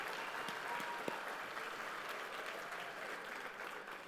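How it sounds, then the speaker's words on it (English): Sustained applause from a sold-out crowd of around 450 at a holiday party and awards event, a steady wash of many hands clapping, heard from a little distance and fairly faint. "I want you all to give yourselves a huge round of applause for being here tonight together"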